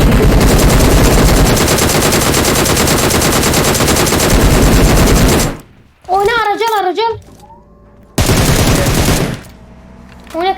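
Loud, rapid automatic gunfire in PUBG Mobile, sustained bursts of fire close up, broken by brief pauses, with a voice speaking in a gap between bursts.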